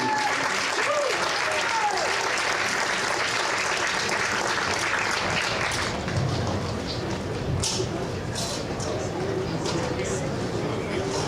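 Crowd applause for seniors and ceremonial first pitches at a college baseball senior day game, a steady wash of clapping with some cheering, loud and continuous throughout and thinning slightly midway.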